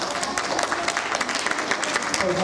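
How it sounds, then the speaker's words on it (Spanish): A school audience at a student reading event applauds the participating pupils with dense, steady clapping. A few voices sound faintly within it. "Vamos a darles un fuerte aplauso a todos ellos."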